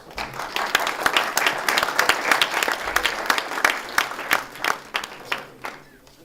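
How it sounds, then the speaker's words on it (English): A university event crowd applauds steadily and loudly throughout, many hands clapping in a dense, continuous wash that thins slightly near the end. "Everyone, please give them a huge round of applause."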